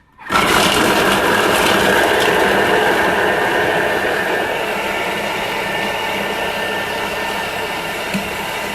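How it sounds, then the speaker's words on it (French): A Thermomix mixes vegetables at speed 5, giving a loud, steady motor whir and churning roar that starts abruptly and holds for about eight seconds. "on programme 10 secondes, vitesse 5"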